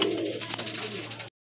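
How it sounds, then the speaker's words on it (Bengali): A pair of silver-coloured Siraji pigeons give a brief, close coo that lasts about a second before cutting off. "এই যে দেখেন কত সুন্দর এক জোড়া কবুতর"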